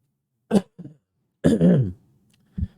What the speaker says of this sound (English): Man, my throat's dry. Sorry about all the coughing.